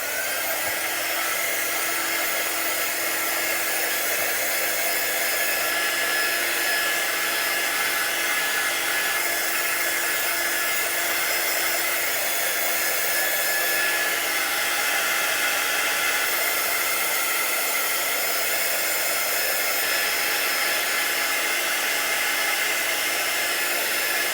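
A hair dryer blowing steadily on Chalk Couture paste, a loud, constant close-up roar of rushing air that holds unchanged for the whole stretch with no voices.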